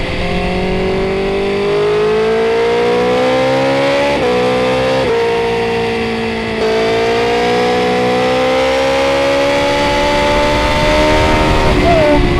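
A 2025 BMW S1000R sport motorcycle engine screams loudly as it accelerates, pitch climbing through several gear shifts with brief drops, sustained and close.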